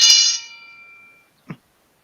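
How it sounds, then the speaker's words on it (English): A single bright bell strike rings out and slowly decays over about a second, followed by a brief soft knock. "and here's some bells."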